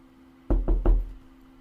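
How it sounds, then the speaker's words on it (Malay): Three firm knocks on an apartment door in quick succession, close and loud over a faint steady hum, with no voices. "sekali lagi bunyi orang ketuk pintu saudara"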